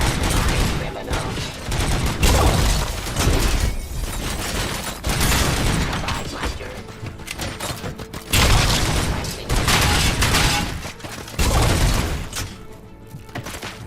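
Heavy bursts of gunfire in a RoboCop video game come in repeated loud volleys with booming impacts and mechanical clatter, filling the stretch with dense, pulsing combat noise.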